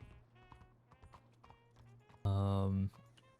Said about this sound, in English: So many horses here.